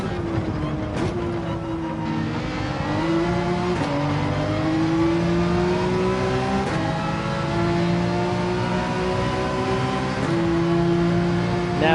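A Porsche 911 GT3 race car engine wails in Gran Turismo 7 at Barcelona, rising through the revs and dropping briefly at each upshift, loud and close throughout, with a voice speaking now and then over it.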